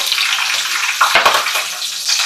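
Fenugreek, cumin and green chilies temper in hot oil with a loud, bright, continuous sizzle and a brief crackle burst midway, close-up, with no voices.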